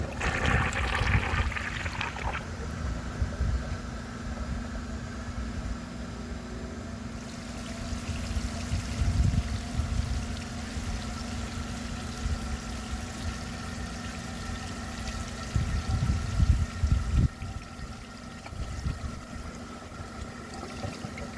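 A 1948 Crane Drexel toilet tank refills after a flush outdoors, a steady hissing rush of water running continuously with occasional louder gurgling bursts and a low background drone.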